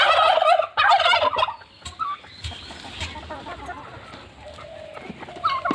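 Local village chickens cluck and squawk loudly up close at feeding time in Barpeta, Assam, with a noisy burst at first, then scattered softer clucks and calls among the flock.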